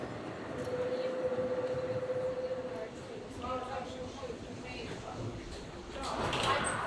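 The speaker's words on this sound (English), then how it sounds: "Belgrade's tram is a key part of public transport." Ride aboard a Belgrade tram on one of Europe's oldest networks, with steady rumbling rail noise and rattling throughout, a brief squealing tone early on, and a voice speaking over the ride.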